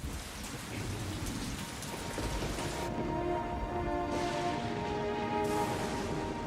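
Steady rain pours down in an animated Christian cartoon about the Easter story, a dense constant hiss of drops on surfaces. Faint low thunder rumbles beneath it, and a soft musical tone hangs in the background.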